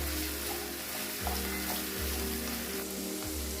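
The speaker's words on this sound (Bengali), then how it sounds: "সবজিগুলো আমি একটু লাল লাল করে ভেজে নেবো" Peas, chopped capsicum and green chili fry in a hot pan with a steady, close sizzle, and low thumps of stirring come every second or so. No one speaks.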